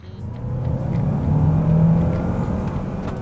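Kia Carnival Hybrid 2024 accelerating in sport mode, a smooth engine and motor hum that rises in pitch and builds steadily before easing slightly, heard from inside the cabin.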